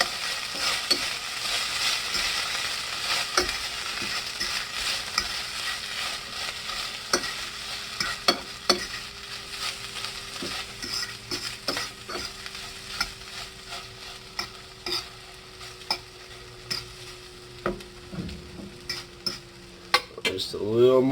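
Vegetarian pulled beef sizzling and frying in a pan with barbecue sauce, stirred with a utensil that gives occasional clinks and scrapes against the pan over a continuous close sizzle.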